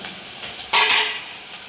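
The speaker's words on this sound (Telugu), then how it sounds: "చికెన్ ఉడికిపోతున్నాయి." Chicken cooking in a pan for chintapandu (tamarind) curry, with a brief burst of sizzle and a clink of a utensil against the pan, close and alone.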